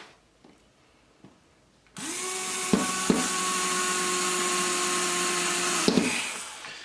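A power drill whirs for about four seconds, driving 5/8 screws into a QuadLugs Mini XL quadcopter frame, a steady close whine with a couple of knocks, preceded by faint handling taps.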